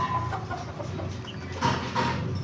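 Three-week-old pet chicks cheep and peep in a soft, continuous chatter, close by and moderately loud, with a slight swell near the end.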